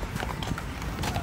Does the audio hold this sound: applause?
no